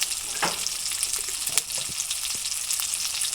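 Spice masala with salt and turmeric sautés in a pan for a prawn malai curry, a continuous bright sizzle close by with a few soft stirring knocks and scrapes.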